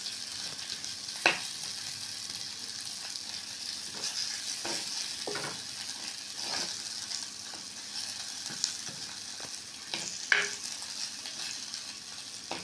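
Red onions are stirred and mixed in a hot frying pan for a village-style chicken curry, with a steady oil sizzle and occasional scraping spoon strokes.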